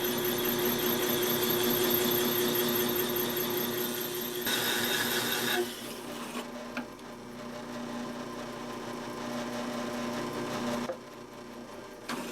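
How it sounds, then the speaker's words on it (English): A drill press set on low speed turns a bi-metal hole saw through metal, giving a steady whirring drone with a grinding cutting tone, then stopping abruptly partway through before spinning up again more quietly. "I have the drill press set on a low speed."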